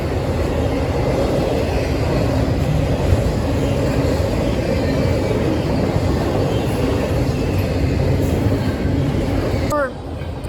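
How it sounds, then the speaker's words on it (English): Steady low rumble of a passing train, continuous and fairly loud, with a brief high squeal near the end. "There's a train coming right now."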